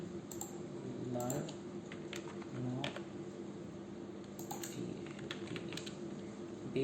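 Fingers tap out a name on a computer keyboard during a business card design, with a run of quick, light key clicks over a steady low room hum and some faint talk.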